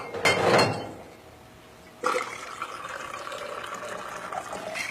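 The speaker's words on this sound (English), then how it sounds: "This allows you to practice pouring different amounts of liquor." Liquor is free-poured into measuring tubes in a bartender practice routine: a brief splashing pour, a pause, then a steady, longer stream of liquid running into the tubes, close and fairly quiet.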